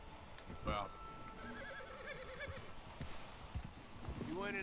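A horse in the Red Dead Redemption 2 video game whinnies and snorts amid outdoor ambience, with hoof clops and a voice under a steady background bed, plus another rising whinny near the end.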